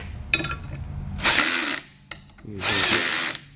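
A power tool drives in the drive motor screws of a TMIII piston end cap in two loud whirring bursts, separated by clicks and handling noises of the work.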